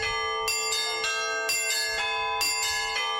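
Church bells rung by hand by visiting bell ringers at the Church of the Resurrection of Christ, several bright clanging strikes in an irregular rhythm with long ringing overtones, close and loud, with no talk.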